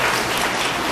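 A church congregation breaks into brief, dense applause to welcome a returning guest, a full, continuous patter of hands.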